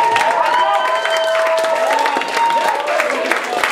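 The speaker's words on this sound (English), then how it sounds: "And one more round of applause for Jacob and Kathleen" Audience applause and cheering at a concert, a continuous dense wash of clapping with voices and whoops mixed in, steady and fairly loud throughout.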